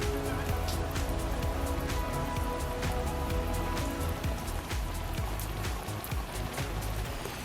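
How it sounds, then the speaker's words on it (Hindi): Heavy rain pouring down in a cartoon story, a loud, constant hiss of rainfall with dense pattering drops and no pauses. "बारिश भी तेज थी और भूख की ज्वाला भी बढ़ रही थी"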